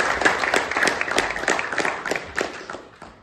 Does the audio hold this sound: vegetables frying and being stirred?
no